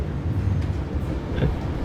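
A train in a short film rolls along with a steady low rumble and faint rattling carriage noise throughout, moderately loud, with no talking.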